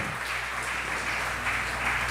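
A church congregation applauds during a sermon, with a steady, moderately quiet wash of clapping that lasts throughout, and no speech over it.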